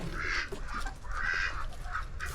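Ducks fed leftover vegetable scraps quack in several nasal bursts, fairly close, over steady low background noise with no speech.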